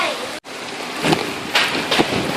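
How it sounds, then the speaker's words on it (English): A tropical storm's wind roars steadily in heavy rain, buffeting the microphone, with a brief dropout near the start and several stronger gusts swelling toward the end. "The storm is pretty intense now"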